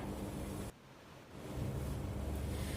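Sea waves washing onto a beach, a steady broadband rush of surf with a brief dip in the middle before the roar swells back, heard alone with no voices.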